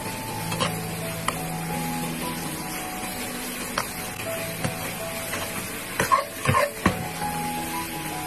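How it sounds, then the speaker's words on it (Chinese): Ginger and bitter melon stir-frying in oil in a wok over medium-low heat, a steady low sizzle with scattered clinks and scrapes of the spatula, louder stirring bursts near the end, no talking. "再放入生姜和苦瓜，开中小火将它炒香炒熟"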